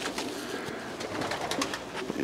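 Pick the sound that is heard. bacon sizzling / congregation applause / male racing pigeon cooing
male racing pigeon cooing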